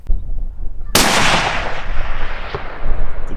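A single loud, sharp rifle shot fired at a sambar stag while hunting outdoors, with its long rolling echo slowly fading away afterward.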